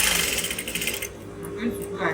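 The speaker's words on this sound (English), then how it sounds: "I'll simply sew the godet on one side first" A sewing machine stitches a godet panel into an eight-piece blouse, a steady motorized whir that runs close and continuous for about a second before easing off, with faint quieter mechanical ticks afterward.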